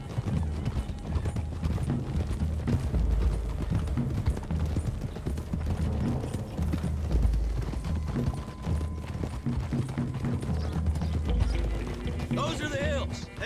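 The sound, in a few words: horses trotting, from the video game Red Dead Redemption 2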